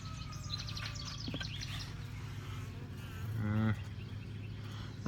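Honeybees buzz steadily around a flow hive while a honey super is being added, a constant insect hum with a brief louder swell of nearby wingbeats passing close.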